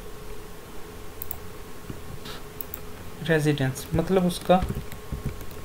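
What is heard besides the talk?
typing on a computer keyboard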